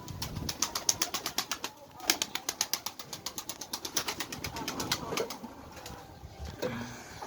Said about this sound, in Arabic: الحمام من العيار الثقيل شباب، حمام أساطير